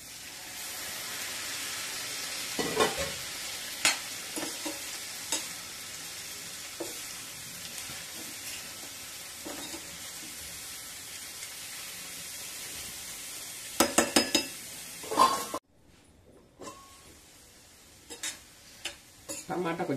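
Tomato pieces frying in a pan for a brinjal curry, a steady hiss of sizzling with occasional ticks and scrapes of a spoon stirring, fairly close and continuous, briefly dropping quieter near the end.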